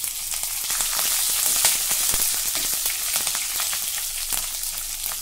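Green chilies sizzling in hot oil for raw mango kadhi, a steady close, dense frying crackle with small pops running throughout, no voices.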